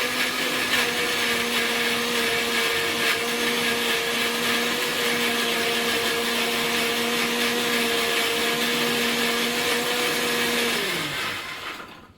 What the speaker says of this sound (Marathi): आता हे पण गाजर आता मिक्सरला लावून घेते, त्याची पूर्ण पेस्ट करून घेते